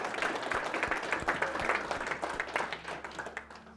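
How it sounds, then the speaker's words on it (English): The crowd at a winter fishing match final prize-giving gives a round of applause, steady moderately distant clapping that continues throughout and gradually thins. "So massive round of applause for Halkon Hunt."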